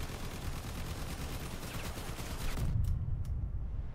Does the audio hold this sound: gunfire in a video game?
yes